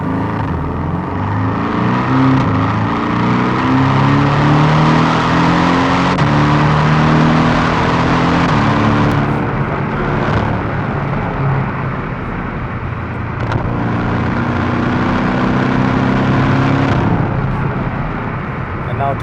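A 2018 Porsche Cayman 718 GTS in sport mode accelerates hard, its exhaust note climbing through the revs with gear changes, loud and close throughout, with rushing road and wind noise.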